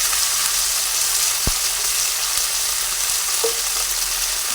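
Okra hitting hot oil and frying in a steady, loud sizzle that holds throughout, with a couple of faint clicks of a spoon or pan.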